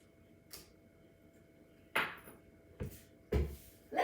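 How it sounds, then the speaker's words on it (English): Egg cracked against a bowl rim and dropped into a separate bowl while making chocolate chip cookie dough waffle batter, a few sharp isolated taps and clinks spaced apart against a quiet background. "I'm going to go ahead and crack my egg into a separate bowl so no shells and no bad eggs can mess up my waffle batter"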